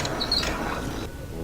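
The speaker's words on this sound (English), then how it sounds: "Bone. Meat grinder." A grinding, ratcheting mechanical churn from a bone meat grinder in the adventure game A Vampyre Story, continuous and gritty with squeaky mechanism noises, fairly loud throughout.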